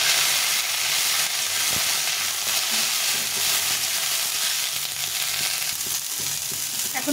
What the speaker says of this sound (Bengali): এখন এর মধ্যে এই ধনেপাতাটা দিয়ে দেবো। এই সবটা ভেজে দেবো।